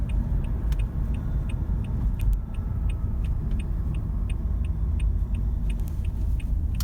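Toyota Prius V hybrid car accelerating, heard from inside the cabin as a steady low engine and road rumble with faint ticking clicks throughout, no talking.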